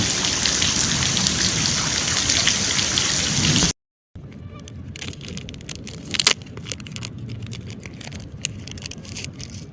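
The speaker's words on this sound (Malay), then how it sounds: "oh, hujan, hujan, hujan, hujan." Heavy rain pours down steadily during sea fishing, a dense hiss of drops on surfaces, briefly cutting out before resuming with scattered louder splashes.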